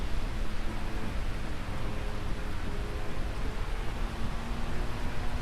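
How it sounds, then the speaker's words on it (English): Heavy in-game rainstorm on a desert race track, a dense, steady wash of hiss and patter with no breaks, loud and continuous throughout. "Pretty significant rainfall. Oh, it's a storm."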